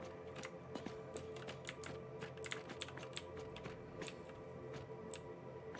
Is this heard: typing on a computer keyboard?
yes